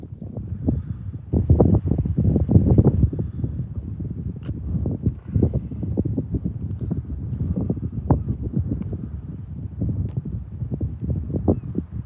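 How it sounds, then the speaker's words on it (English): Gusty wind buffets the microphone outdoors during a fishing session, a loud continuous rumbling roar with rising and falling gusts and no talk. "that wind's kicking back in a little bit"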